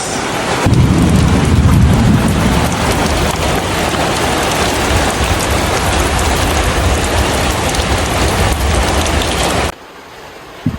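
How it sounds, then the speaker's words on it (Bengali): Steady heavy rain falls outdoors, a dense continuous hiss with a low rumble, loud and close for about ten seconds before cutting off abruptly near the end. "গাইস, বাহিরে রহমতের বৃষ্টি হচ্ছে।"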